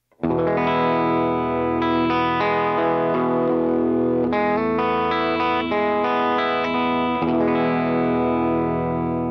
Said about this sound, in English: for that big washy swell tone, I put my most heavily affected sounds on snapshot 3